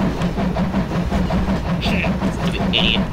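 A train runs in Garry's Mod, its wheels clacking rhythmically under a steady rumble, with brief high squeals from the rails; moderately loud and fast, no talk over it.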